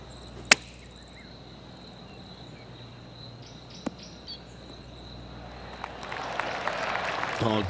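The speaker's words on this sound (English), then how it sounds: "golf clap" A golf crowd in PGA Tour 2K23 gives polite applause. After a sharp crack early on and a quiet stretch, soft clapping starts and builds to a light, spread-out patter near the end.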